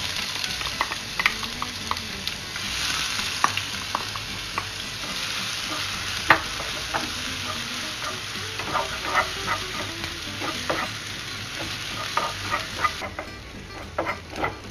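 Crushed ginger and garlic sizzle steadily in a pan for Kerala fish curry, a dense broadband hiss lasting the whole stretch, with frequent crisp stirring scrapes and pops cutting through and no talking.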